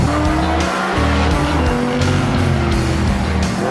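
A 2021 Tesla Model S Plaid racing on a closed road, tires squealing and skidding loudly with a sustained screech that wavers in pitch, close and dominant with no talk.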